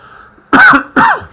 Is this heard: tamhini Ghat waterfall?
no